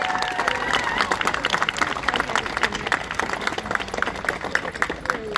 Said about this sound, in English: Let's give Robin a round of applause who did our teaching today